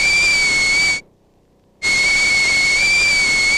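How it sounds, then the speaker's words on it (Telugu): A pressure cooker on a stove gives two loud, sustained, piercing whistle blasts, broken by a brief silence. "ఏ పొయ్యి మీద కుక్కర్ ఏమైనా పెట్టావా?"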